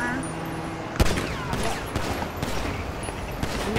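Gunfire aimed at gasoline in a first-person video game: sharp shots crack out one after another in an irregular rhythm, close and fairly loud, with faint voices in the background.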